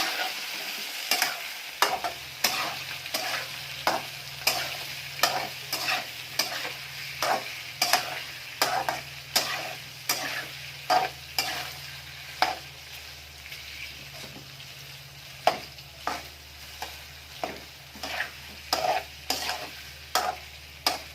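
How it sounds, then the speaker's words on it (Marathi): Potatoes with salt frying in a pan for fasting sabudana khichdi are stirred steadily, with a continuous close sizzle and a regular series of sharp spoon scrapes and taps against the pan, with no talk. "मीठ आपण थोडंसं चवीनुसार त्याच्यात टाकून घेणार आहे। व्यवस्थित ते हलवून घ्यायचं आहे।"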